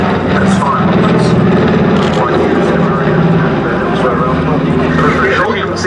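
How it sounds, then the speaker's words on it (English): A Catalina flying boat lands on grass at the Duxford airshow, its propeller engines droning loud and steady throughout while an announcer talks over the aircraft noise. "Touching down on the grass, the aircraft captained today by former RAF Andover and Hercules pilot Dere"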